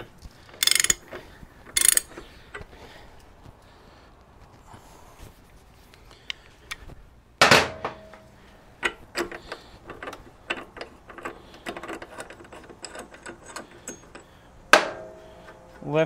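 Socket wrench ratchet clicking in several short bursts while breaking loose a tight swingarm axle nut on a 1984–2017 Harley-Davidson Softail, with metallic clinks and taps between bursts, close and fairly loud with no talk.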